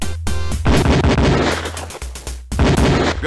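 Beretta pistol fire on a police shooting range in the game Police Quest IV, loud, close gunshots in quick succession with brief gaps between bursts, no speech.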